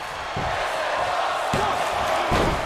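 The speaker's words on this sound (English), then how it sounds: "Listen to the crowd right now chanting, "This is awesome."" Arena crowd in the WWE 2K22 wrestling video game roaring and chanting steadily throughout, a dense continuous wash of cheering with a few low thuds beneath.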